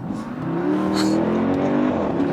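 A hybrid car accelerates as the throttle is pressed, engine pitch climbing steadily into a loud, rising drone heard from inside the cabin.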